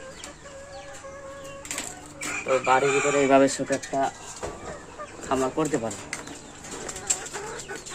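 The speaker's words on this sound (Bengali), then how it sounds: "এই যে এখানে আমার কিছু মুরগি আছে এগুলো সোনালি মুরগি" Sonali chickens kept in a small home farm inside a house cluck close by, with bursts of wing flapping and calls rising and falling under a person talking.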